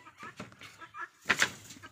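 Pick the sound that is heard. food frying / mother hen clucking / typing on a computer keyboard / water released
mother hen clucking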